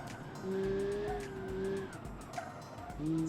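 A stock car in the Automation game with a loud sequential gearbox: a rising and falling engine tone with a whining gear note, shifting pitch between gears, fairly steady and moderately loud.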